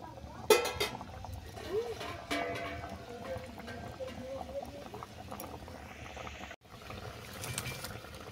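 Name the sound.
fish curry simmering in a pan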